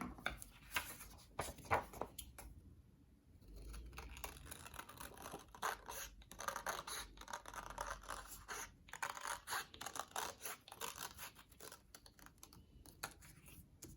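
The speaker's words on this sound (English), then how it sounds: "And I'm going to trace. Okay, cut it out." Scissors cutting out a traced paper shape for a citrus collage, a faint, close series of irregular snips and paper rustles continuing throughout with short pauses, no talking.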